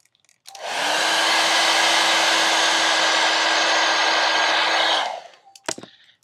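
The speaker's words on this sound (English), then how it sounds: "you're going to take your dryer and you're going to blow as you peel." A handheld hair dryer blows steadily for about four and a half seconds at close range, loud and unbroken, while a sticker is peeled off a game case insert; it shuts off with a few light handling clicks.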